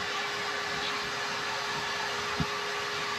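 A vacuum cleaner runs with a steady, close airflow roar and a constant motor whine, with a single soft knock partway through and no talking.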